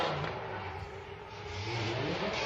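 Drift car in a Formula Drift Pro run at Kearney engine steady and loud, continuously revving for the whole short stretch with no talk over it, likely after tapping the wall and coming out of a drift.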